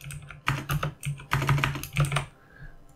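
Keystrokes on a computer keyboard as an effect name is typed into a search field, several quick bursts of clicks with short pauses between, close and clear, no talking.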